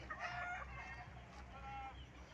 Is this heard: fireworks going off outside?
no